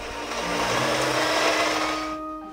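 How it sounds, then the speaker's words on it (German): Very soft butter being beaten until creamy in a mixing bowl by an electric mixer, giving a steady, loud motor whir that runs for a couple of seconds and then cuts off. "In eine Rührschüssel geben wir dann anschließend sehr weiche Butter hinein und rühren die schön"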